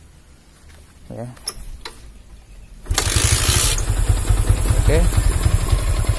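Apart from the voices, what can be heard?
Yamaha Vixion motorcycle starting with kick and electric starter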